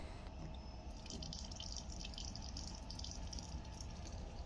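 Water runs steadily from a tap aboard an SJ EuroNight sleeper train, a soft continuous splashing hiss, low background hum underneath, no voices.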